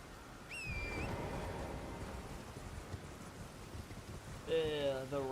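Steady rain hiss falls in a video game, a continuous broadband wash from start to end, with brief tonal game sounds near the beginning and end.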